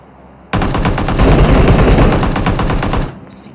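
Loud, rapid automatic gunfire in the battle royale game PUBG Mobile, a single sustained burst of closely spaced shots that starts abruptly and runs for about two and a half seconds before cutting off.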